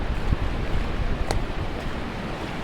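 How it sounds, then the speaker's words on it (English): The flood-swollen Winooski River in Vermont rushes past in a broad, steady roar of churning water mixed with wind buffeting the microphone, loud and continuous with no speech. "And this is the very swollen Winooski River."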